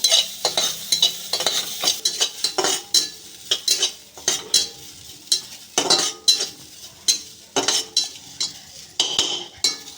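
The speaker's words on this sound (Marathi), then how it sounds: "याच्यामध्ये टाकूया आपण आता कांदा कांदा चांगला परतून घेऊया" Onion frying with cumin in a pan without oil, stirred with a utensil that makes repeated close scraping and clinking strokes over a steady sizzle, with no talk.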